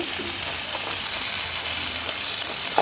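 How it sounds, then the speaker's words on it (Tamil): Ten small shallots sautéing in a pan for a chutney, giving a steady, even sizzle and hiss that runs unbroken throughout at moderate loudness. "ஒரு பத்து சின்ன வெங்காயம் போட்டுக்கலாம் நல்லா வதங்கட்டும்"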